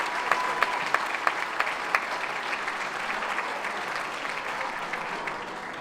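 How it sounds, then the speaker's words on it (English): A steady, full round of applause fills a room at an annual foundation celebration, with several sharper claps standing out early on and the clapping continuing evenly throughout. "Please give everybody a round of applause. Give yourself a round of applause."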